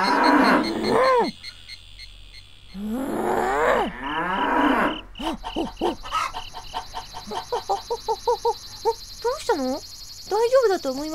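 A cow moos in the video game Boku no Natsuyasumi Portable, with long wavering lows up close followed by a series of short, rhythmic animal calls resembling fowl clucking, over a steady game background.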